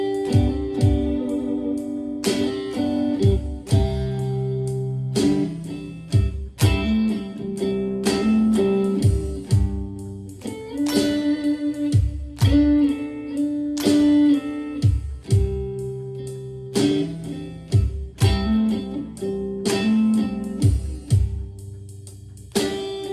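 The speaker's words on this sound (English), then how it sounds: "So using an Alesis SR16 drum machine here." Guitar playing a song over a programmed beat from an Alesis SR16 drum machine, with steady sustained chords and regular percussive hits running continuously for about twenty seconds, clear and close.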